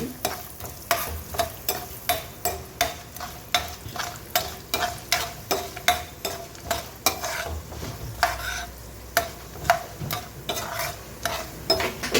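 Mustard seeds, dried red chilli and curry leaves crackle and sizzle in hot oil for puliyogare tempering while a utensil stirs and scrapes the pan in a steady, repeated rhythm, close and clear.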